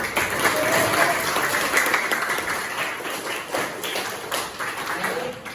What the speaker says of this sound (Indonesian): boleh kita berikan aplaus untuk Alif.